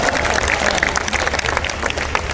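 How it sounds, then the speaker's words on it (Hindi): Applause from an audience at a Vijay Diwas poetry event in Bhopal, a dense patter of clapping lasting a couple of seconds at steady volume. "तालियां कमजोर थी।"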